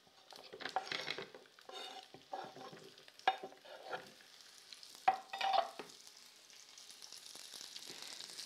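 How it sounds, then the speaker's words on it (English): Courgette tipped into a hot frying pan with ginger, onion and mustard for a courgette curry, giving a steady close sizzle broken by a few sharp stirring scrapes and clatters of the spoon against the pan. "I'm now going to add the courgette."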